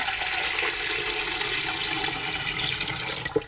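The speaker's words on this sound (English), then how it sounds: "So I'm adding 6 cups of water." Water pours steadily and continuously into a Carey Nesco pressure canner, six cups for canning black-eyed peas, a close splashing, rushing flow with a small knock near the end and no talk.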